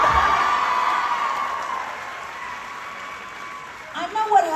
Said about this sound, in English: The little one here is clapping for me.